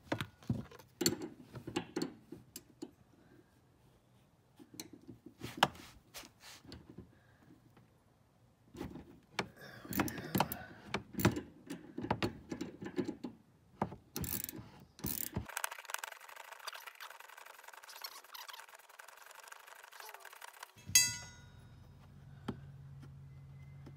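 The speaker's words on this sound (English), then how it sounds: "This is when you want to have some type of wrench, and if it's ratcheting, it makes it even easier." Ratcheting wrench tightening bolts on a rear upper strut brace in a 2016–18 Toyota Corolla/Scion iM, giving bursts of quick close clicking with metallic clanks and pauses between runs, then a steadier mechanical whir near the end.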